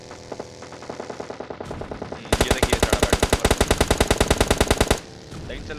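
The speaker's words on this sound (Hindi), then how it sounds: "अब देखना गन की आवाज़ आती है" Rapid automatic gunfire in PUBG Lite, a long burst of evenly spaced loud shots after a few lighter ones, then stopping abruptly.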